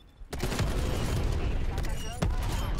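Rapid AK-47 gunfire in Call of Duty: Black Ops Cold War rattles out as a dense, loud, continuous burst, with a sharp renewed volley near the end and a voice talking over the shooting.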